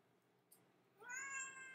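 A cat gives a single drawn-out meow, clear and close, in a quiet room after a brief soft tap.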